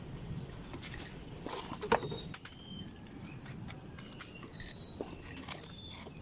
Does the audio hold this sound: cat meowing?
no